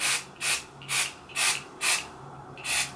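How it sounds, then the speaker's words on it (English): A can of shimmer body spray fires six short, sharp hissing bursts at a fairly even rhythm, each close and crisp with brief quiet gaps between them. "Do we need that many sprays?"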